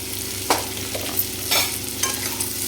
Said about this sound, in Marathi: एकदम 5 ते 6 मिनिट परतून घ्यायचं, कारण हिरवे टोमॅटो असल्यामुळे वेळ लागतो याला